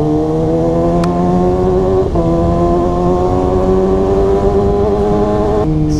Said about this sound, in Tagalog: Hit like and subscribe kung na-enjoy nyo po yung tunog ni ZX6R